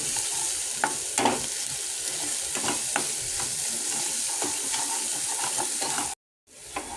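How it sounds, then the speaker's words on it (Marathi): Garam masala, coriander powder and salt are stirred into spices frying in oil, with a steady bright sizzle and soft scraping strokes of the spoon running throughout at close range, then a brief dropout near the end. "आणि अर्धा चम्मच गरम मसाला आणि चवीप्रमाणे मीठ तुमचा अंदाज तुम्ही मीठ टाका ते मिक्स करून घ्यायचे मसाले"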